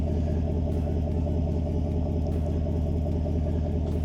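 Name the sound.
Ford F150 idling with Flowmaster Outlaw muffler exhaust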